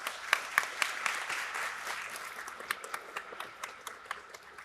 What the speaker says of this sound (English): Please give big round of applause again.